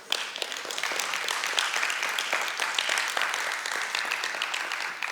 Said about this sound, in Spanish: Usted debe darle palmas a Jesús por su salvación